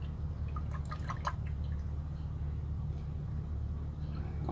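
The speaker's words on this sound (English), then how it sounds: "I just poured a whole quart of oil." A quart of motor oil pours steadily into an engine during an oil change, a continuous close liquid gurgle and splash lasting several seconds with no talking.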